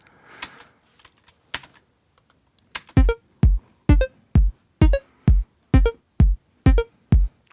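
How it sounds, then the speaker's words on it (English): A dry bass drum and synth pattern with no effects plays as a steady run of punchy low thumps with short tonal blips, about two per second. A few faint clicks come before it. "it's just a bass drum and a synth pattern, and it sounds really like nothing when you play it without any effect"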